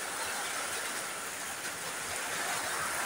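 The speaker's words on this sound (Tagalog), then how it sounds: "Grabe talaga yung ulan," Heavy rain pours during a flood that has pushed water into a kitchen, a dense, continuous hiss that stays loud and steady throughout with no break.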